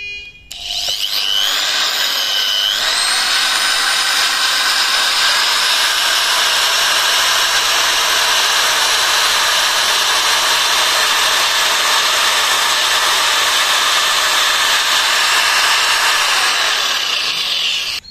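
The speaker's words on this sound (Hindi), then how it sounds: "फिर उसके बाद हम लोग छेद करते हैं इसमें" An electric drill machine bores a hole in wood, its motor winding up quickly and then holding a loud, steady whine with rough grinding for about seventeen seconds before stopping, with no talking.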